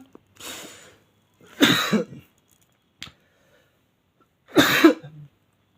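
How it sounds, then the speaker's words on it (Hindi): Three separate coughs, fairly close, with a small click between them and quiet pauses in between. "थोड़ा सा खांसी हो रही है"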